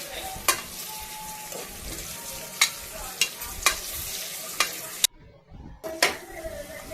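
Onions sautéing in oil in a pan for biryani, a continuous close sizzle with sharp periodic scrapes and taps of a spoon stirring, briefly dropping away near the end before resuming.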